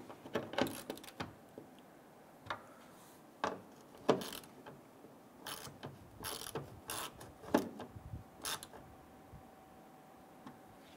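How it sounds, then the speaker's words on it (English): Hand ratchet snugging bolts on a 2012-2017 Toyota Camry rear bumper bracket, with scattered short clicking bursts and irregular mechanical ticks, fairly faint, spread across the clip with no talk. "Now I switch over to a hand ratchet"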